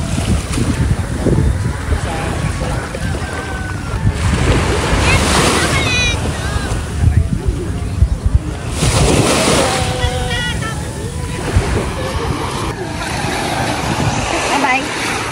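Surf breaking along a seashore where fishing boats are awaited on a sunny morning, a steady wash with wind buffeting the microphone, while people talk over it throughout.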